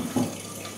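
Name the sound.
pure water flowing from a water purifier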